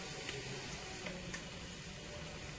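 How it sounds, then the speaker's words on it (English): Grated coconut sautes in a pan after turmeric powder, giving a steady, soft sizzle throughout with faint stirring scrapes, no talking. "we'll add some grated coconut, saute it"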